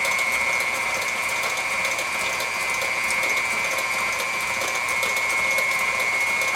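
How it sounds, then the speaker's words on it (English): An electric mixer beats cherry cream cheese pound cake batter with a steady, whirring mechanical drone and fine rattling, close and continuous, with no voices. "Make sure you turn your mixer down when you're doing it. Now guys, let me show you something while that's beating."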